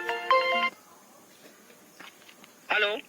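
Phone ringtone chimes in short melodic bursts, an opening ring followed by a pause with faint background noise and brief voices, then the ringtone sounds again, close and clear.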